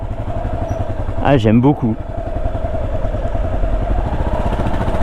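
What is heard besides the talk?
Yamaha XT500 motorcycle riding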